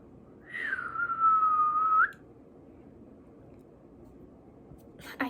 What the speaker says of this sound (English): I cannot whistle.